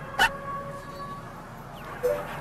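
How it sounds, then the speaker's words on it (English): Two short yips from a virtual dog in the handheld game Nintendogs, sharp and close, spaced about two seconds apart over a quiet hum. "He barks when all the girls are around with their Nintendogs"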